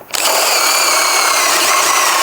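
A DeWALT DCD1007 cordless hammer drill spins up on second speed and runs at a loud, steady, close whine, with a sustained buzzing motor tone and no voices.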